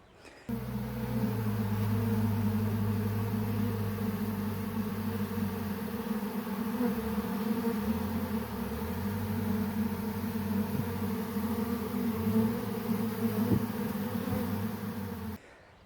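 A steady, close drone of many honeybees buzzing continuously around a hive, with a low hum that shifts slightly in pitch.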